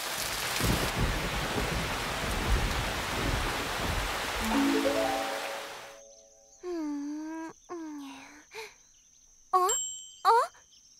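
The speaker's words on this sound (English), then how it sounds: "Oh, it stopped raining." Steady cartoon rain pours as a dense hiss for about five seconds, then cuts off, followed by short bright chime-like tones and sparkly effects.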